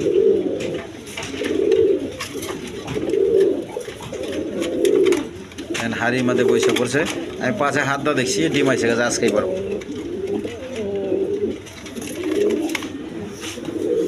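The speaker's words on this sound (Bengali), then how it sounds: "এখানে এক পেয়ার ডেনিশ কবুতর আছে দেখেন" A pair of Danish pigeons coo in repeated low, rolling calls at a regular pace, close by, while someone talks over them for much of the time.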